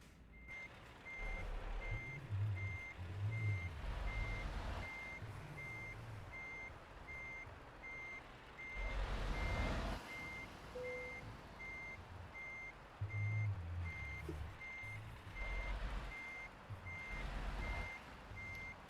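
Reversing alarm beeping steadily at a fixed pitch from a heavy truck backing up with a trailer in Euro Truck Simulator 2, with the engine rumbling underneath and periodic louder surges of engine noise, no one talking.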